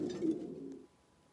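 A single low, soft pigeon coo, brief and fairly close, fading into quiet.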